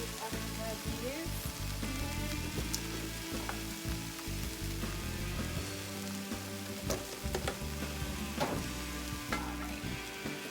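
Vegetables sizzle and crackle in a hot pan for a vegan stir fry with tofu, a continuous close frying hiss with scattered pops and stirring clatter, fairly quiet and without talk.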